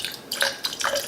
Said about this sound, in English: just put a little bit of water in the bottom of